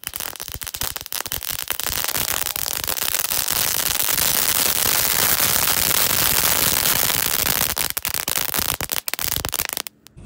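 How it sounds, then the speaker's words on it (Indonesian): Three packs of spinning firecrackers go off at once in dense, continuous crackling bursts, rapid and loud for about ten seconds, tapering into a few scattered pops at the end. "Langsung saja kita nyalakan mercon gangsing 3 pak sekaligus guys"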